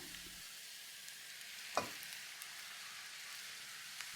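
Rice with soy sauce frying in a pan makes a quiet, steady sizzle, with a single brief scrape of stirring partway through.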